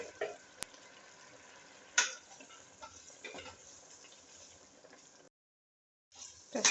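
Meat and rice ingredients stirred together in a pot while cooking pilau: soft scraping and clinking strokes over a low sizzle, with a few louder knocks, a brief silent gap near the end, and no voices.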